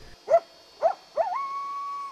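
A coyote-like howl: two short yips followed by a rising cry that settles into a long, steady, fairly loud sustained tone, alone with no talk.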